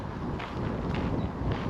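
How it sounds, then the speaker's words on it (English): Wind from a cold sea fret rolling in off the North Sea buffets the microphone with a steady low rumble and gusty swells, continuous throughout and with no voices. "Well, it's more wind than breeze."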